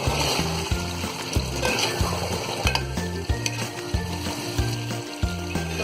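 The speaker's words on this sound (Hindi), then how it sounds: "और इसे भी अच्छी तरह भून लेंगे" Mutton curry with potatoes sizzling and frying in a pan, with steady close sizzle broken by regular scraping stirs of a spoon, with no voices.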